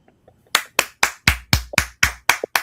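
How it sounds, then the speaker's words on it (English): A single person clapping close by to welcome back a returning guest, nine sharp, evenly spaced claps in a steady rhythm after a quiet start. "Round of applause."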